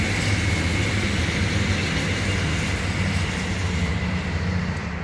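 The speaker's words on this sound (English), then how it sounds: "Let's let the West Hill train go" A West Hill train rolls past in one steady, loud rumble that lasts the whole stretch, with wheel and carriage noise and a faint higher whine above it. There is no talking.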